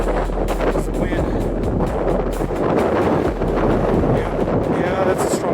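Strong wind of about 15 to 20 miles an hour on a steep, exposed ridge near Fremont Watchtower, roaring steadily and buffeting the microphone close up, with a voice speaking over it.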